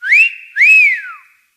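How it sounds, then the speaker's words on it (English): A wolf whistle: two loud, clear, close whistled notes, the first rising and the second rising then falling away in a long slide, with nothing else heard. "he whistled at her. A wolf whistle."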